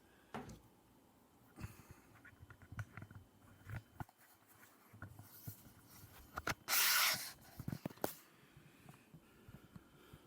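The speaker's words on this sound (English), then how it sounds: "It's automatic air freshener spray." An automatic air freshener in a studio apartment fires one short hissing spray burst partway through, standing out against quiet rustling and handling noises in the room.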